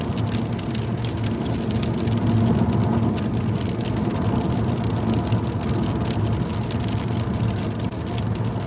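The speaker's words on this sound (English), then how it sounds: "Some rain coming on." Rain starting to patter on a car while driving, a dense steady drumming of drops on the roof and glass over low road and engine rumble, close and continuous, with no one talking.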